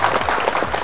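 A studio audience at a Bible quiz show claps for a correct answer, a dense burst of applause filling the short moment at steady loudness.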